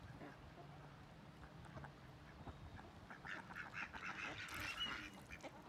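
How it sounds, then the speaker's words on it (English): Ducks on a stream quack faintly at first, then louder and busier toward the end, with a murmuring voice in the background. "I hear you, ducks."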